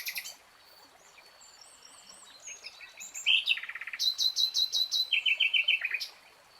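Birds chirp and call in a melaleuca forest bird sanctuary in the Mekong Delta. The sound starts as a busy, distant chorus, then nearer calls repeat in quick, rhythmic bursts over a faint, steady hiss.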